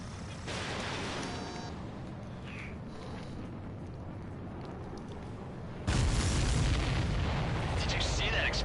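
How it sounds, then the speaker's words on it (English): A loud burst of explosion noise in Ace Combat 7 erupts abruptly near the end, following several seconds of steady rumbling aerial combat ambience with voices underneath. "Did you see that explosion?"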